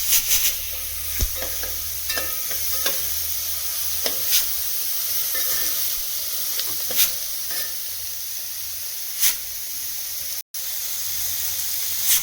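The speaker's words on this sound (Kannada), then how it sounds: "ಸ್ವಲ್ಪ ಹಸಿ ವಾಸನೆ ಹೋಗೋವರೆಗೂ ಚೆನ್ನಾಗಿ ಎಣ್ಣೆಯಲ್ಲಿ ಫ್ರೈ ಮಾಡಬೇಕು" Steady sizzling of capsicum frying in oil, with a constant hiss and occasional sharp crackles and scraping stirs throughout, no voices.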